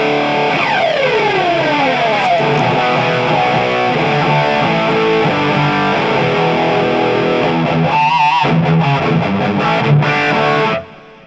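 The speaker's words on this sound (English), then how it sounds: "Let's crank all the distortion up." An electric guitar played through a Joyo BantAmp XL Meteor II with the distortion cranked fully up, a thick, saturated wall of chords ringing loudly and continuously, then cutting off at the end.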